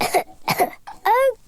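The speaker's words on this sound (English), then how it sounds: "Monkey has a bad cough." Three cartoon coughs from a Peppa Pig episode, two short rough barks followed by a longer, more voiced hacking cough, close and clear.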